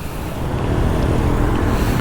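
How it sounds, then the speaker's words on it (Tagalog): A Bajaj Rouser NS 200 motorcycle idles as its engine warms up, a steady, loud, dense rumble with broadband wind-like noise and no talk. "nakaandar na yan pinapainit ko na lang yung makina"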